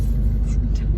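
A manual-transmission car rumbles low and steady as it pulls off in first gear during a stick-shift driving lesson, with a faint voice murmuring over the engine.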